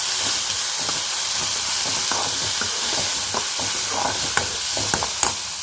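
Cabbage is sautéed in a hot pan with dal and curry leaves for a poriyal, giving a loud, continuous close-up sizzle with faint scraping from stirring and a few soft clicks.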